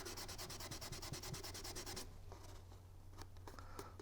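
A paper edge being rubbed to blend ink on a papercraft project, a quick rapid run of rhythmic scratchy rubbing strokes followed by softer, scattered scuffs, close and quiet.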